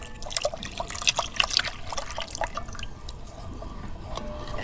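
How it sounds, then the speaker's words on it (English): Coconut milk poured into a pot while cooking, a watery, steady trickle with small drips and splashes, close and fairly quiet, with no talking. "I'm going to add the rest of the coconut milk"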